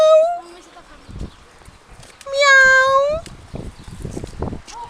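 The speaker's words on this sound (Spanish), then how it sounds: "Son gatos salvajes." Wild cats meow outdoors during a picnic, with a few clear, drawn-out meows, one short and one longer and louder, amid quieter rustling and background noise.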